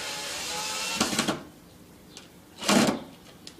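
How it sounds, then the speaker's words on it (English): A power drill bores into a homemade remote control car ramp part in two short, close bursts of whirring, separated by a quiet pause. "drill it"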